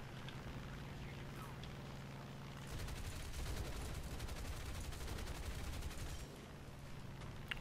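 Rapid, sustained automatic aircraft gunfire in the video game War Thunder rattles continuously, growing denser and louder midway, with an engine-like drone underneath.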